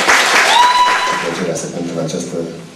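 Audience applause at a young folk music night, a crowd clapping loudly at first and tapering off as a voice speaks and a sustained tone sounds over it.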